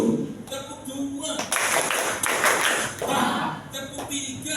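A classroom group claps in counted quick bursts, broad dense smacks rising and falling across the clip with brief pauses between rounds, loud and close.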